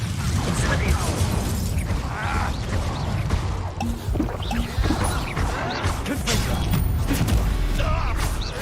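Incendio fire spells are cast in a Hogwarts Legacy duel, giving a dense, continuous roar of fiery whooshes, crashes and clanking impacts close up, with voices mixed into the combat din.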